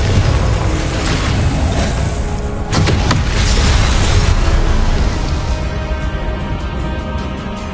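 Confringo fire spell from Hogwarts Legacy bursting in a video game, a loud dense blast with a sharp crack near the middle over a continuous roaring, rumbling game mix.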